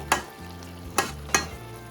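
Lata fish is gently stirred in a pan, three soft utensil scrapes against the pan spaced across a quiet, low simmering background, close by.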